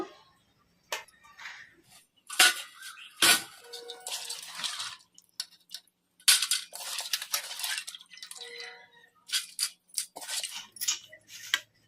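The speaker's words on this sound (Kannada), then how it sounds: "ಈಗ ಇದನ್ನು ಈ ಥರ ಒಂದು ಹೋಲ್ಸಿರೋ ಪಾತ್ರೆಯಲ್ಲಿ ಬೇಳೆಯನ್ನು ಹಾಕ್ಕೊಂಬಿಡೋಣ" Soaked cowpea lentils tipped into a perforated metal vessel in a village kitchen, a series of close rattling, clinking bursts with short quiet gaps between them.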